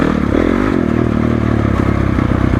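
A 2012 Honda CRF450 dirt bike rides a trail of small jumps, holes and technical passages, its engine close and loud with a steady, slightly rising note and clattering over rough ground, with no talk.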